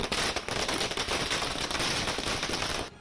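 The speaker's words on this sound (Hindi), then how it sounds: "थोड़ी ही देर में आतिशबाजी भी शुरू हो गई।" Fireworks and firecrackers crackle and pop in a dense, continuous barrage at a celebration outside a house in Mumbai, loud and unbroken for a few seconds with no voices.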